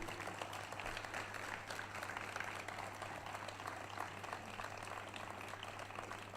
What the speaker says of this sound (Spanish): Aplaudir, aplaudir.